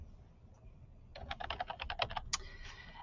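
A quick burst of about a dozen close, crisp keystrokes on a computer keyboard types out a single word, then a brief pause and a final tap over a low room hum.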